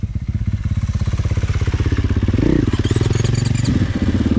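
A KTM 500 EXC enduro motorcycle engine idles and runs steadily up close, its rapid, even thumping pulse rising briefly midway as the throttle is blipped, with no talking.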